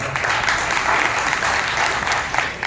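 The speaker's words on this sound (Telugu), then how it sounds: "మళ్ళీ ఒకసారి బిగ్గరగా చప్పట్లు కొడతాం" A church congregation at a Sunday worship service clapping loudly, a dense and steady burst of applause that fills the whole stretch without a break.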